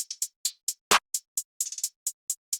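A programmed beat in a home production: a single hard snare hit lands among steady, crisp sixteenth-note hi-hat ticks, close and clean with no voice.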